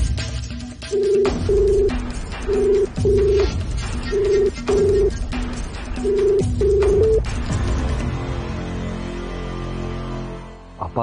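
An outgoing phone call in a TV serial: a ringback tone sounds in short paired bursts, repeating about five times at an even pace, clear and prominent before cutting off and giving way to quiet room noise.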